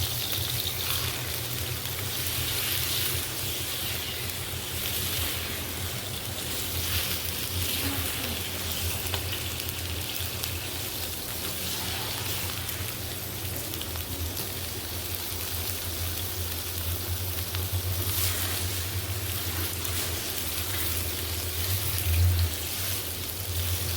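Chunks of pot roast beef brown with onions in a hot pan before braising, a steady close sizzle with scattered pops and a stirring scrape, continuous and moderately loud throughout.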